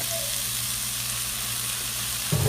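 Steak and vegetables sautéing in a pan make a steady, even sizzle and hiss close by, with a brief rougher stir or clatter right at the end.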